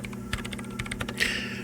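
Rapid, light clicking of keys on a computer keyboard in the video game Disco Elysium, a quick burst of typing heard close up over a steady low machine hum.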